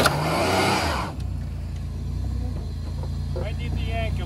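A GMC truck doing a burnout roars loudly with a hard rev for about a second, then drops to a lower, steady engine rumble as people talk nearby.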